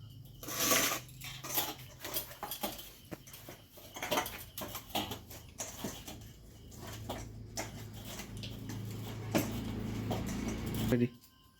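A pan lid is lifted to check dough for jaggery luchi being cooked at home, giving a few brief metallic clinks and scrapes amid close kitchen clatter, with a voice talking throughout.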